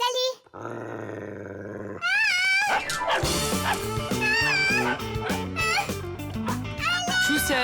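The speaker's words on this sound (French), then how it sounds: "Arrête, ça suffit les aboiements." A cartoon dog in the animated series Les Fixies growls and barks in loud, close bursts, rising and falling in pitch, mixed with a person's raised voice.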